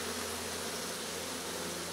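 Honey bees hum steadily around an open Layens hive during a honey harvest, a continuous low droning buzz with no pauses.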